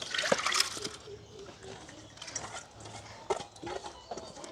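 Water poured onto washed lentils in a cooking pot to boil them for a village-style Friday meal, a brief splashing trickle with a few light clatters, fairly close and moderately quiet.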